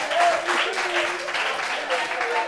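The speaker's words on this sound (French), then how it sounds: "Applaudissements pour eux," Steady applause from an audience, dense and continuous, with some voices mixed in.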